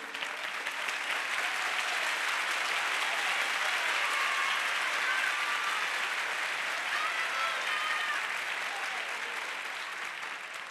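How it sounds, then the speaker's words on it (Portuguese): Sustained audience applause fills a church service during a sermon, a steady dense wash of many hands clapping at even loudness throughout, with no voice on top. "Se for para mim, o aplauso tá bom"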